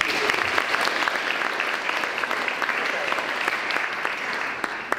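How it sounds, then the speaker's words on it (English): An audience applauds a volunteer at a spring education talk event, a steady, dense wash of clapping from many hands that holds at an even level for the whole stretch with no voices over it. "everyone give Abby a round of applause"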